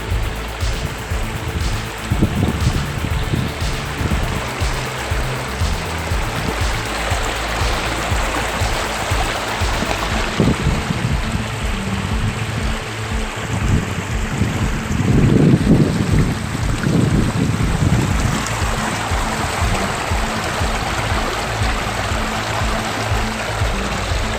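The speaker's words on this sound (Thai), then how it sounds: "มวลน้ำก็ตอนนี้ไหลมาตาม คลองชลประทานนะครับ" Floodwater flowing along an irrigation canal into the Thung Kula Rong Hai plain in Maha Sarakham, heard as a loud, steady rushing wash with some wind buffeting the microphone throughout.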